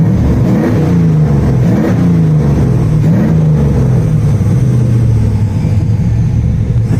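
The engine of a 400hp Nissan Hardbody truck revs with its exhaust valve open, a loud, close, deep rumbling drone that rises and falls through a few swells and holds steady throughout.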